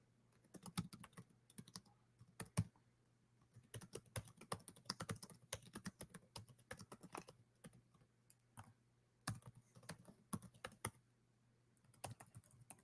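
Quiet, close typing on a computer keyboard, with irregular bursts of clicking keystrokes and short pauses between them.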